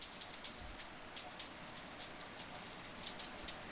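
Steady, dense rain falls outdoors in late spring in Rio de Janeiro, a constant hiss with scattered patters of drops on nearby surfaces, with no voices.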